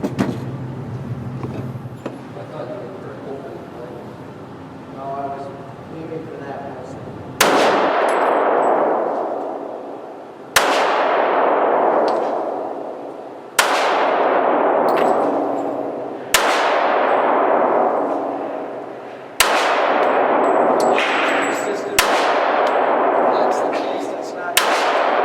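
Ruger SR1911 pistol shots ring out one at a time, each sharp report followed by a bright metallic clang from steel targets, about seven evenly spaced hits after an opening stretch of quiet voices and background noise.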